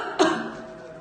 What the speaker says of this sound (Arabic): تعمد الطبيب تصوير سعال المريضة حتى يتم تمييز سعال المريض المصاب بفيروس كورونا عن السعال العادي